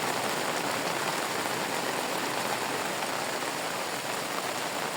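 Rain falls steadily on a farm field planted with spinach, making a dense, even hiss with no breaks or louder bursts. No one speaks.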